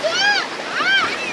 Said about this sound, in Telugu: ఇక్కడ చూడ అలలు ఎట్లా వస్తున్నాయో చూసారా